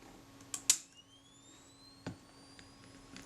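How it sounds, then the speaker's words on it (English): A Kodak Retinette type 022 camera fires its flash with a sharp click and a brief burst. Quiet rising high whines follow, probably the flash recharging, and a softer click comes about a second and a half later. "And the flash fired nicely."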